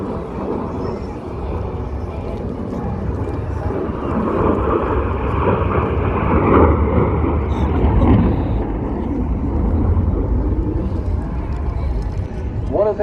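A Saab jet roars past at the Bray airshow, a thick, powerful rumble that swells and stays loud throughout, with an announcer's voice running underneath.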